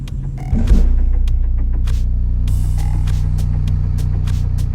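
H Yanka 15-inch budget subwoofer playing a 30 Hz test tone at high power, a loud continuous deep hum that stays steady while small rattles and creaks sound over it.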